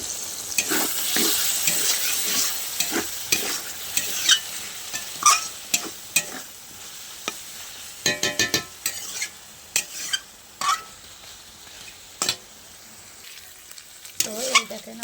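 Spice masala fried and stirred in a pan for samosa filling, with a soft sizzle broken by frequent sharp scrapes and clacks of a spoon against the pan, coming in irregular clusters.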